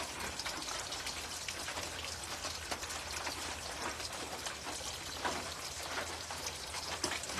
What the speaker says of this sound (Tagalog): Maulan dito sa amin ngayon.